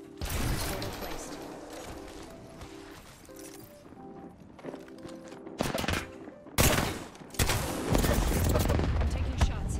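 Gunfire in the video game Apex Legends, scattered mechanical clicks early on, then several loud sharp bursts of shots near the end.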